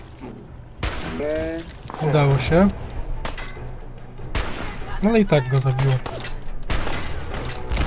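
Gunfire from the video game Fallout 4, several sharp loud shots and bursts with echoing tails spread across the span, mixed with game sound effects and someone speaking between them.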